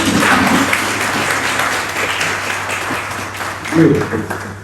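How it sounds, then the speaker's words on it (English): An audience at a church pastoral week gathering claps for young students, a steady wash of applause at moderate volume with voices speaking over it at the start and again near the end. "let them stand up, let's clap for them."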